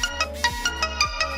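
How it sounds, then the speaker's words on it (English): A phone's notification tones ring out in quick succession in a kitchen during cooking, a regular series of short bright chimes about every fifth of a second, clear and close, with no voices. "there's all my notifications coming through"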